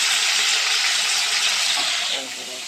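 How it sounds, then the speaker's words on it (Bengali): Katla fish frying in a pan, a steady bright hissing sizzle close up that eases off slightly toward the end. "এদিকে আমি মাছ ভাজা বসিয়ে দিয়েছি"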